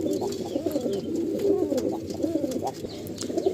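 Several Fulsira pigeons cooing continuously nearby in a loft, soft overlapping throaty calls with faint background chirps.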